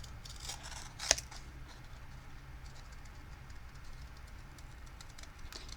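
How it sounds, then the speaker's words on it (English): A single crisp snip of scissors cutting paper over a quiet background hum, with faint rustling afterward. "The best thing to do is turn your paper as you are cutting."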